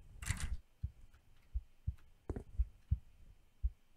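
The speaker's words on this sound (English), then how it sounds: "Why is my heart beating?" A heartbeat sound effect inside a video game thumps in a steady, fairly loud rhythm of low pulses, alone with no talk and a brief higher rustle near the start.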